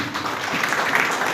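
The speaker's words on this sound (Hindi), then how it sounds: "चलिए ताली बजाइए।" Applause from an audience at a public speech event in Hindi, a dense, even wash of clapping that holds steady and loud for just over a second with no voice over it.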